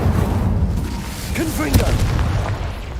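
In Hogwarts Legacy, an Incendio fire spell is cast with a brief whooshing burst over dense low rumbling game ambience and a sharp crackle, moderately loud throughout.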